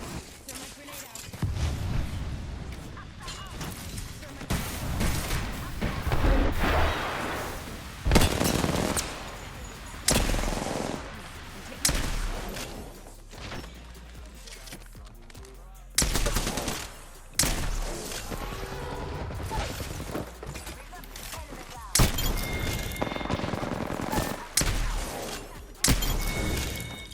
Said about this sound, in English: Frag out. Throw my grenade out.